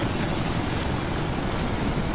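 Steady, loud rotor and engine roar of a helicopter in the military video game Arma 3, a continuous dense drone without pauses or speech.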